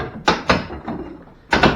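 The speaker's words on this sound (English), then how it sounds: "I'm going to pop the casing off against this old jamb and not against the wall" Door casing pried off an old door jamb, a few sharp wooden cracks and thunks close by, separated by brief pauses.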